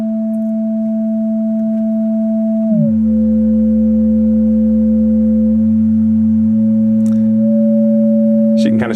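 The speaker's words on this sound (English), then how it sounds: "let's go ahead and change the frequency of that sine wave." A steady amplitude-modulated sine tone from an ER-301 synth module sweeps down in pitch, then steps upward in small jumps, loud and alone with no voices.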